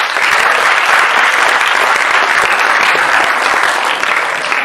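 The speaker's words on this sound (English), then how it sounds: "Round of applause" Student audience at a university roast applauds steadily and loudly, a dense wash of clapping that holds for several seconds with no talk over it.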